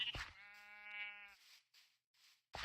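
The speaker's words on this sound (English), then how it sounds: "Hello, sheep." A single sheep bleat from the Minecraft video game, a clear, tonal, wavering call lasting about a second, close and alone, followed by faint game sounds.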